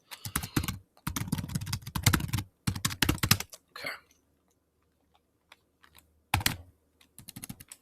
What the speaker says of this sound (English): Make sure I type in the correct password.